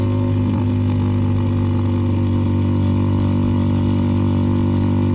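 A CFMoto 300NK motorcycle with a KO aftermarket exhaust carries two riders, its engine a loud, steady, close-up drone with a rich low hum throughout the ride.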